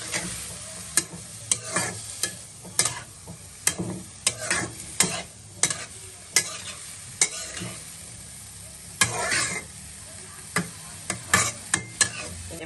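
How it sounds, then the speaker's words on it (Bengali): Food with turmeric is stirred in a frying pan, a soft sizzle broken by a steady run of sharp spoon scrapes and knocks against the pan about once a second, close and clear. "এবার লাড়া দিচ্ছి।"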